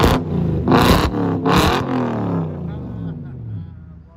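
A straight-piped luxury car with a manual gearbox revs its V8 in two sharp, loud blips, then the engine settles into a fading idle rumble.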